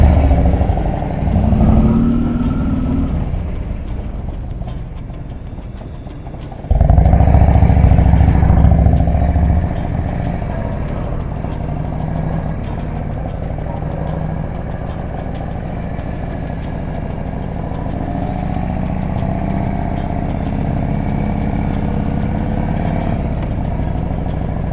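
Motorcycles idling and riding on a mountain pass road in the French Pyrenees, the engine a steady rumble that jumps louder for a few seconds before settling into a continuous drone with no talk.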